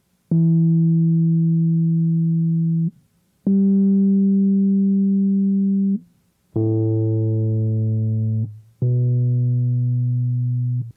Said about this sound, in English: the Rhodes has, in some ways, a very clear, almost sine wave-like sound.